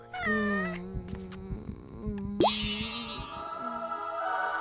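A pet cat meows several times in close, clear tones, with short harmonic calls separated by soft knocks and bumps and a brief burst of hiss-like noise midway, in a quiet indoor room.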